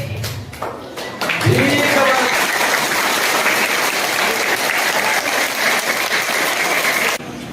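Loud, dense applause from an audience at a Bengaluru student-welfare foundation event swells after a brief moment of voices and carries on steadily before cutting off near the end, with talk faintly around it.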